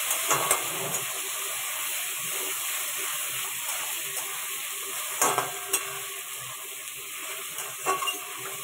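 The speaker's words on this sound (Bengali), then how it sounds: "যে মাছের তেলটা এবার দিয়ে দিলাম পরিষ্কার করে রাখা, এটাকে ভালো করে লাল লাল করে ভেজে নেব" Cleaned fish frying in hot oil until reddish-brown, a steady dense sizzle with crackling pops and occasional louder spatters, close by, with no voices.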